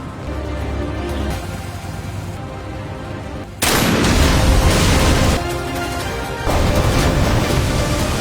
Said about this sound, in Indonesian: Dogi bersiap menembak. 1 tembakan.